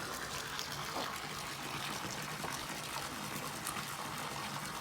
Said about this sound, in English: There's water going in the pool.